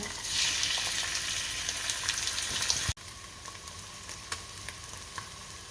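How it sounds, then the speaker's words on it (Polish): Steady crackling sizzle of pork loin frying in hot oil, loud and close, dropping briefly then continuing at a slightly lower level. "Na rozgrzanym oleju smażymy nasz schab."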